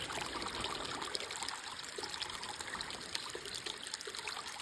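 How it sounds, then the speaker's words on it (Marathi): A small river on a farm flows with a soft, steady trickle and babble, faint and continuous, with no voices. "ही आमची छोटीशी नदी."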